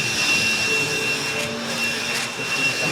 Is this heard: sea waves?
no